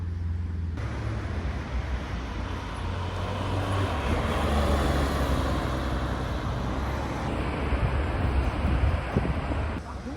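A Porsche GT3 RS sports car drives past during car spotting in Deauville, a broad steady engine and road roar swelling over about ten seconds amid outdoor wind noise, with no talk.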